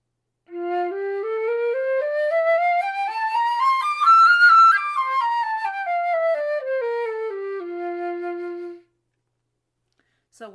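A flute fitted with a Win-D-Fender wind guard plays a two-octave scale, with smooth, close tones rising evenly to the top and descending again. Silence follows the final note.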